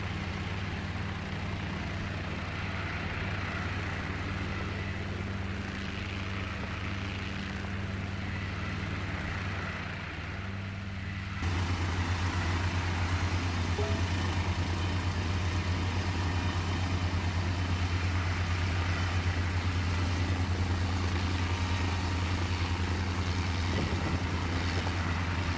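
A helicopter engine starting up drones steadily for a while, then its pitch and loudness step up as it spools into a stronger, continuous whine and rumble.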